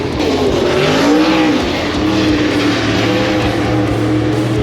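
Race cars qualifying at Sharon Speedway on a slick track roar past in a loud, continuous engine drone with rising and falling pitch as they circle, without talk.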